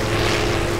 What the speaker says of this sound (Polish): Wow, tam mnie goni jakiś samolot!